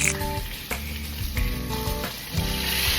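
Tilapia fries in a pan in a home kitchen, giving a steady, close, dense sizzle with small crackles and pops throughout and a faint background hum, without any talking.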